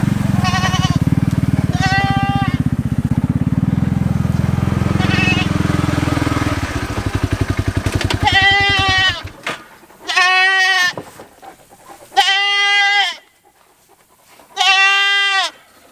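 A goat bleats repeatedly near a livestock pen, at first under a running engine and then alone in four loud, wavering cries with short pauses between them.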